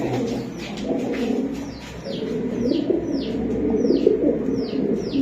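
Racing pigeons coo in a loft: steady low coos with a regular series of short, high chirps over them, close by and with no voices.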